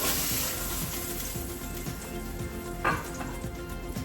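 Salmon sizzles and fries steadily in a hot pan, a dense continuous crackle with one brief louder spatter near the end and no voices.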